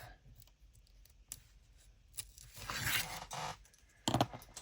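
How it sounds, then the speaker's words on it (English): Tape peeled off a Halloween junk journal page during a craft session: a quiet, short tearing rasp in the middle, followed by a brief sharp crackle near the end, set among faint handling clicks. "And then let's take the tape off."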